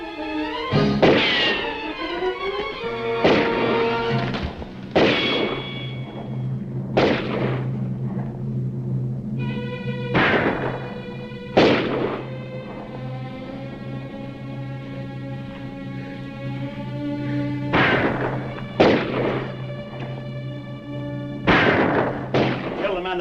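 Gunshots ring out in a western shootout, a series of sharp loud bangs spaced irregularly across the scene, several close together, over a steady low hum with ringing tones and faint voices between shots.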